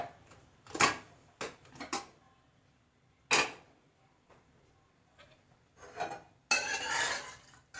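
Lid and pot of a pressure cooker being opened after three whistles, with several separate clanks and metallic knocks spread across the moment, then a louder rattling scrape near the end, close by with no talking.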